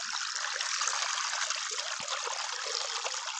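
Running drinking water trickling in a steady stream, a continuous bright splashing flow heard close with even loudness throughout, and no talk over it.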